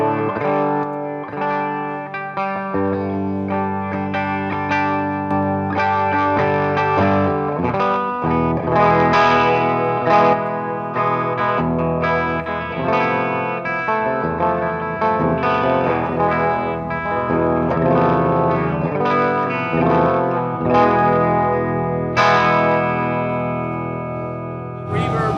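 Electric guitar played through an amplifier's clean channel, sustained chords and picked notes ringing with a touch of effects and reverb, loud and continuous throughout.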